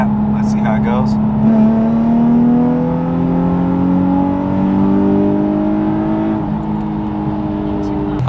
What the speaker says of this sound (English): We'll do another third gear pull in the performance map.